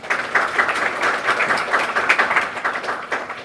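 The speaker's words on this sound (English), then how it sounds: "I want you to clap for them" Applause from a youth conference audience in Africa, honoring partner organizations: a sustained patter of many hands clapping at moderate loudness, steady throughout with no speech over it.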